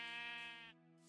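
A sheep bleats once in Minecraft, a clear harmonic digitized bleat about three-quarters of a second long that ends abruptly, followed by a faint quiet tail.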